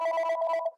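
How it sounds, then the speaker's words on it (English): A telephone rings during a Washington State Senate hearing held over a remote call, giving one short, loud electronic trill of rapid pulses that cuts off abruptly after under a second. "I can't quite hear because of the ringing noise"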